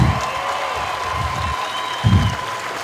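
A crowd claps at an Air Force Basic Military Training graduation ceremony. The applause is steady and broad, with a louder swell near the end. A low voice comes through faintly beneath it.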